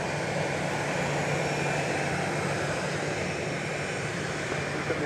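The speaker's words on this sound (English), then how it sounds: "was Flight 3033, 737-700 going to LAX. There it is behind me, or in front of me, I should say." A Boeing 737-700 jet airliner on Flight 3033 to LAX at Dallas Love Field after dark gives off a continuous, even engine roar, steady and fairly loud from start to finish with no talk.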